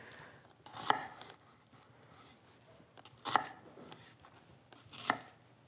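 A kitchen knife chops down through an onion on a cutting board in three separate, crisp strikes spaced a couple of seconds apart, close and fairly quiet, with no talking.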